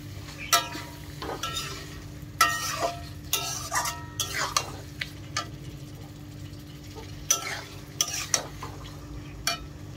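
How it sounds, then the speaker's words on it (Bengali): Marinated chicken with yogurt and turmeric being stir-fried in a pan, with repeated sharp spatula scrapes and knocks in an uneven rhythm over a constant low sizzle, close up with no voices. "চিকেনটা ভালো করে কষিয়ে নেব।"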